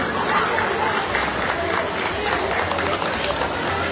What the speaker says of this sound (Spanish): Recibamos con fuertes aplausos al padrino de Brindis y presentación